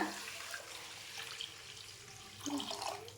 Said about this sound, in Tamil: அதில் தண்ணி ஃபில் பண்ணிக்கோங்க, தண்ணி ஊற்றிக்கோங்க.